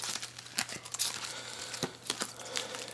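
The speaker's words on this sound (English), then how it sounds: "But what you hear shuffling is me going through these here, this various stuff here." Boxed add-on pieces for the Drunkquest Porcelain Gods card game are shuffled and sorted by hand, giving close, steady crinkling and rustling with sharp irregular clicks and taps.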